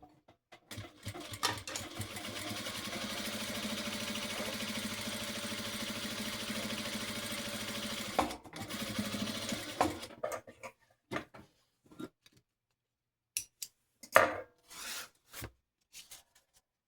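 A sewing machine stitches fabric close by, running steadily for several seconds with a brief pause, then giving way to scattered handling clicks and rustles as the stitching stops.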